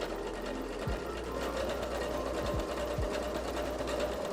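A sewing machine stitching folded fabric tie straps runs at a steady fast clatter throughout, close and continuous with a low motor hum beneath, and a few faint tool clicks are mixed in.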